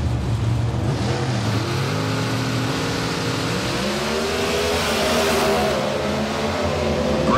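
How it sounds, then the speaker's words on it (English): Small block Ford-powered drag racing Mustang at a Texas Motorplex competition eliminator, its engine roaring loud and steady as rising harmonic tones climb through the launch, with a slight rattle at the tires. "Grima rattles the tires on the Mustang"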